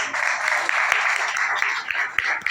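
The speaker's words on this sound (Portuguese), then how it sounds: "Aplauda o Senhor com as palmas." A church congregation claps during a worship service, the applause moderately loud and somewhat uneven, with scattered sharper individual claps.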